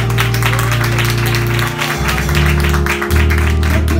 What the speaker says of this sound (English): Let's clap our hands and praise the Lord.